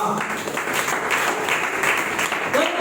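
A church congregation at a Sunday worship service breaks into applause, a steady dense patter of many hands clapping at moderate volume, running throughout with little pause.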